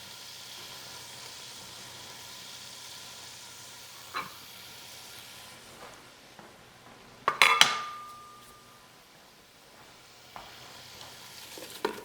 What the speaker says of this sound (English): So we're going to put our bacon in the bottom, and we're going to cook it up.